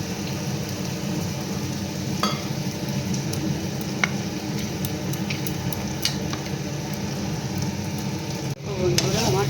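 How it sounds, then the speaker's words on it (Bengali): Onions fry in a pan with a continuous low sizzle, broken by occasional scraping clicks from stirring. Near the end comes a brief louder clatter and a voice speaking. "আমার পেঁয়াজটা ভাজা হয়ে গেছে বেশ সুন্দর লাল করে"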